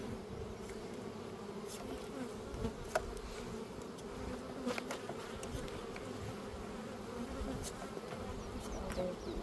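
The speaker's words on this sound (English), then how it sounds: "A lot of bees." Many bees buzz around beehives during a summer hive check, a dense steady drone close to the microphone with individual insects zipping past now and then.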